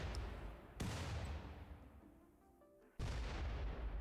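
Gunfire in the RimWorld colony game: two sharp booming shots about two seconds apart, each leaving a decaying rumble, loud and close with no talking over them.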